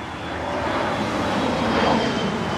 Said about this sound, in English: There's another one of those huge planes that looks like they kind of clip the top of these buildings when they fly over from the runway